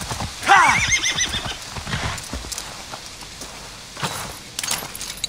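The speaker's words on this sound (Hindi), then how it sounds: "तो वहाँ पे दो घोड़े आ गए थे जैसे मेरे थे" Horses in the video game Assassin's Creed Valhalla let out a loud, close whinny, followed by steady clip-clopping hooves and jingling tack as they move along.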